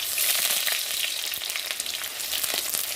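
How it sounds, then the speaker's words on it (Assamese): Potatoes fry in hot oil in a wok, giving a dense, steady crackling sizzle that stays loud and close for the whole stretch, with no talking over it. "আলুখিনি ইয়াতে অকণমান দেৰি ভাজি ল'ম প্ৰথমতে"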